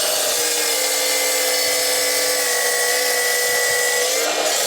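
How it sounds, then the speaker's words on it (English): A large power saw cuts steadily through timber on a staircase job, a loud continuous whine with a sustained tone that holds for several seconds and then stops. "This saw will actually take it right down as well."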